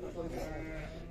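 Sheep bleat amid the noisy bustle of a livestock market, a short low cry heard close over a steady murmur of people talking.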